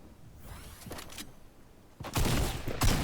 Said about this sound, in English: Oh, I missed my first shot.